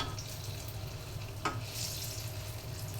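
Jackfruit pitha batter dropped by the spoonful into hot oil, a steady close sizzle with low bubbling and one brief clink partway through, no talking.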